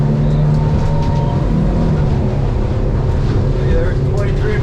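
A 2023 Duckworth 24 Pac Nac hard top boat's engine accelerates across rough water, a loud, steady outboard drone with harmonic whine, buffeted by wind noise close to the microphone.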